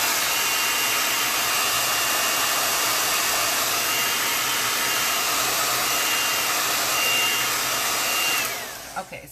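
A hair dryer drying chalk paste on a stencil roars steadily and loudly at close range for about eight seconds, then winds down and cuts off.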